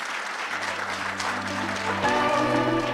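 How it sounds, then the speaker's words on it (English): A summit audience at a national ICT event applauds a deputy minister, a steady, moderately distant wash of clapping while a low sustained hum and some musical tones rise under it near the end. "Can we please give a round of applause for our Honorable Deputy Minister?"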